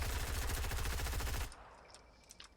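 Rapid automatic gunfire in Fortnite, a loud sustained burst of closely spaced shots lasting about a second and a half before cutting off, followed by faint scattered clicks and game sounds.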